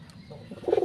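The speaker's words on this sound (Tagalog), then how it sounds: "Mga kalapatids." Pigeons with newly hatched squabs give a short, soft cooing that swells into a louder burst near the end, heard alone at close range.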